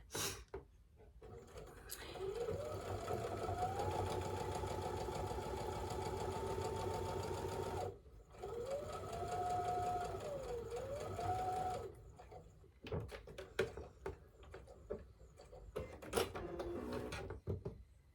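Sewing machine stitching a Halloween quilt, running in long steady whirring stretches with brief stops and a pitch that rises and dips, then short bursts and clicks toward the end.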